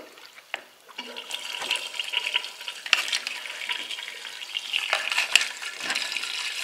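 Cold tap water runs from a newly plumbed kitchen faucet under strong pressure, a rushing, splashing flow with uneven surges and occasional clunks, close by and without talk.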